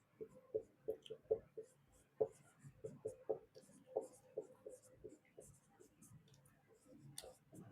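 Pen scratching out a maths equation on paper in a Class 10 lesson, a run of short, quiet strokes and taps in uneven rhythm with soft murmured speech underneath.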